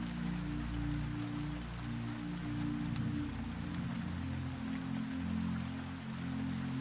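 Soft, steady rain falls on a garden at night, a dense continuous patter with a low hum beneath, even and unbroken throughout with no voices.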